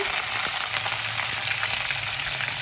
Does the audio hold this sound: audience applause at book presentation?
no